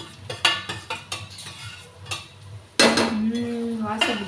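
Roasted moth beans being stirred into a dry-roasted spice mix in a pan, with a run of scraping, clinking spoon-on-pan strokes and a brighter, louder stretch of stirring toward the end; no one talks.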